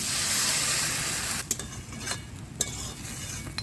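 Water poured into a hot pan of sizzling crab curry masala, a steady hissing rush for over a second that settles into a quieter simmer broken by a few sharp utensil clicks, close and alone.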